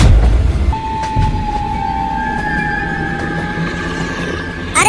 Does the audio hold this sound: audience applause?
no